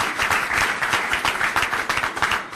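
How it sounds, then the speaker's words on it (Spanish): Steady applause from a large crowd at a Venezuelan political gathering, dense clapping sustained throughout at a fairly loud level with no clear pauses. "respaldo a Juan Pablo Guanipa, a quien le damos un aplauso de Voluntad Popular."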